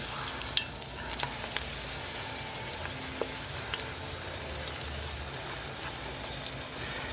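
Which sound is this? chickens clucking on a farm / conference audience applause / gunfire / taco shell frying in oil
taco shell frying in oil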